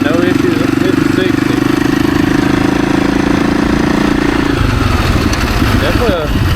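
A Husaberg dirt bike engine drones steadily while riding, a loud buzzing hum close to the rider, easing off toward the end, with someone talking over it.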